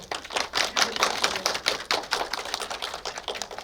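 An audience at a documentary screening welcomes the workshop director with brisk, crisp clapping from a modest crowd, close and fairly dense, with no talking.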